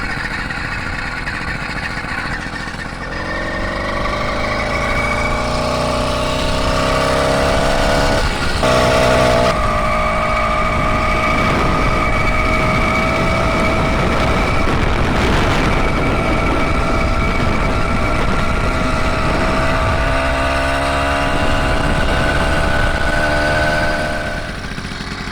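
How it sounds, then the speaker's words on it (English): A motorised bicycle's small engine runs loud and close, droning steadily with its pitch climbing and falling as the throttle is worked, no voices over it. "pedalling up to speed, drop the clutch, and we're running"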